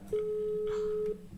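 A single steady telephone beep tone sounds for about a second during a phone call, clear and fairly close over faint background noise.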